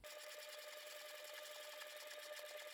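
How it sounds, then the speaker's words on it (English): A sewing machine runs a line of stitching on a DIY wallet, a continuous fast mechanical whir with a steady buzzing tone throughout, faint and without any talk. "sew one more line just inside that"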